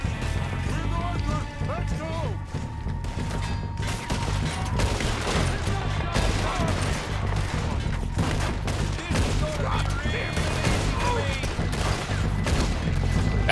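Gunfire in the video game Red Dead Redemption 2, a dense run of shots over galloping hooves and constant game noise, loud and sustained throughout.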